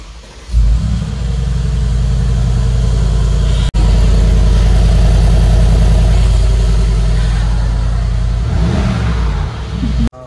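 A Mercedes-Benz V8 turbo engine fires up and runs loud and close with a deep, steady rumble and rising revs. A sharp click interrupts it briefly, and the engine cuts off near the end.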